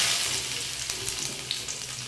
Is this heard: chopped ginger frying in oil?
yes